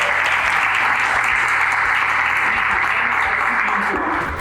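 A dense, steady round of audience applause at a bodybuilding training course held in a gym, loud and continuous throughout before tapering slightly at the very end.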